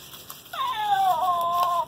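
A cat gives one long, loud, drawn-out meow, close by and alone, lasting over a second.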